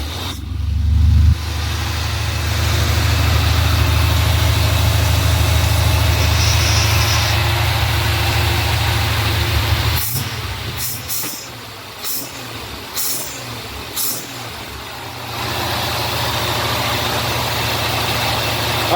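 Old Chevy C-10 pickup engine fires up and settles into a steady, loud idle for about ten seconds, then the low rumble drops away briefly with rattling clatter before the idle returns.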